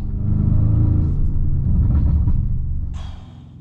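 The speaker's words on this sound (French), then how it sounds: "les retours d'échappement, c'est la guerre mondiale." An Audi RS7-R ABT, 740 hp with an IPE exhaust, gives a deep, loud rumbling rev that swells and then fades away, with a short raspy burst near the end.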